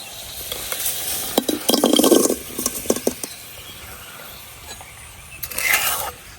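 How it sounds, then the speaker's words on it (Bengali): Sugar-coated amla (Indian gooseberries) stirred and sizzling in a hot wok, with bursts of frying hiss and scraping between quieter stretches and a louder sizzle near the end. "এখন যে আমলকি চিনি চিনিতে মাখায় রাখছিলাম এগুলা কড়াই দিয়া দেম"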